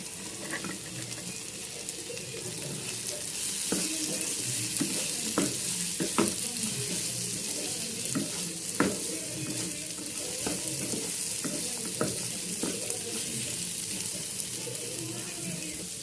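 Green peas and carrots stirred and sautéed in a pan for a breakfast aval dish, a steady sizzle with repeated scraping stirs and clinks throughout, close and moderately loud.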